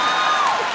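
Studio audience at a comedy talk show clapping and cheering together, a dense, loud burst of applause with crowd noise throughout the short moment.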